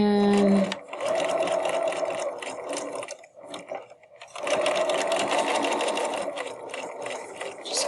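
A sewing machine stitches fabric for a reusable tote bag, whirring in two long bursts with a short pause between them. The motor sounds close and clear, with a faint mechanical rattle and no speech.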